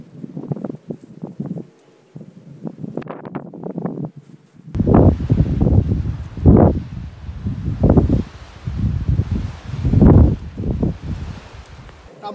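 Strong outdoor wind on a damp route during a motorhome trip roars against the microphone in loud, surging gusts that rise and fall every second or so.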